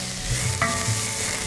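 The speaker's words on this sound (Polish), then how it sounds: "Do garnka trafiają 2 łyżki oliwy i pokrojona wcześniej cebula." Chopped onion hitting two tablespoons of well-heated olive oil in a soup pot for lentil soup, giving a steady, loud, continuous sizzle and crackle with no talk over it.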